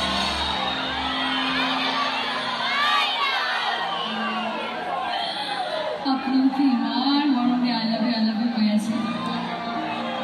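A large crowd at a Bihu concert in Assam cheers, whoops and shouts continuously, loud and dense throughout, with a voice rising above the noise later on.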